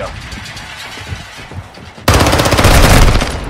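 Sentry gun fire in Warzone Mobile multiplayer, heard first at a distance under quieter game noise before a loud, sustained burst of rapid automatic shots erupts close by and keeps hammering to the end.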